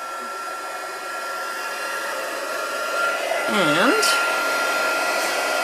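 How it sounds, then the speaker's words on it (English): A heat tool used for heat embossing blows hot air in a steady, loud rushing hum throughout, with a brief spoken word and a faint tonal wobble near the middle. "heat tool."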